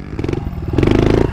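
A motorcycle engine revs hard in second gear during a wheelie, a close, loud, throbbing burst with a rising pulse over a little more than a second.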